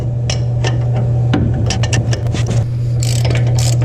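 A ratchet tightens the ball joint nut on a Ford F350 front end. Rapid clicking bursts sit over a steady low hum close to the microphone.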